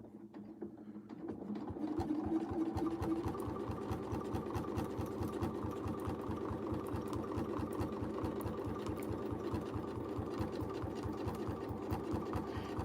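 A domestic sewing machine stitches steadily during free motion quilting, a fast, even mechanical whir that builds up after a second or two and runs on quietly without talk.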